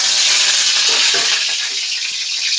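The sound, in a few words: sizzling tadka (tempering) in a kadhai for sambar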